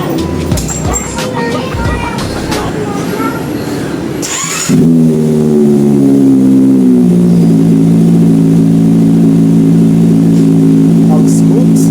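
A Kawasaki Ninja motorcycle engine fires up after an oil change, following some talk and handling noises, then runs loud and steady with a rising, droning rev that gradually evens out.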